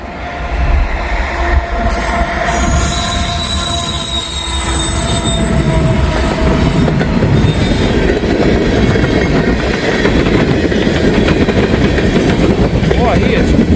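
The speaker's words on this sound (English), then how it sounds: "Saw that there's Norfolk Southern train stopped at Whiskey Hill" A Norfolk Southern freight train rolls past close by and loud, its wheels squealing and rail joints clattering in a continuous heavy roar that stays strong to the end.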